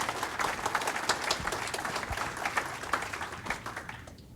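An audience at an agricultural retail conference applauds steadily, a dense wash of many hands clapping at moderate volume that fades slightly toward the end.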